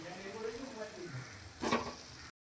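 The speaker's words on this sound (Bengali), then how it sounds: "এবার আলুর সাথে মশলাকে আবার কষিয়ে নেব।" Potatoes frying with spices in a pan, a soft steady sizzle with a brief scraping stir near the end, close and faint before it cuts off.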